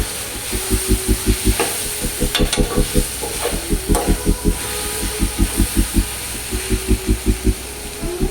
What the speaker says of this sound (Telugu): చూడండి ఎంత మంచిగా ఫ్రై అయిపోతుందో